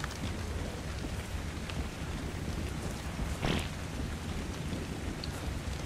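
Rain falls in the survival video game Ark as a steady, dense hiss that keeps up throughout, with one brief louder swell partway through and no voices.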